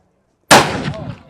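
A single loud AK rifle shot cracks at an outdoor shooting range after a moment of silence, followed by a short fading echo.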